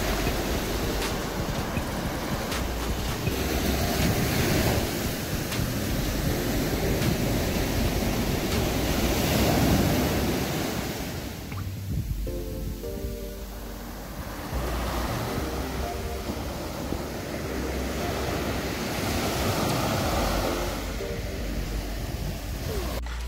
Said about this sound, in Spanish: estoy acá frente al mar un rato y les voy a dejar algunas tomitas para que vean cómo es este pedazo de acá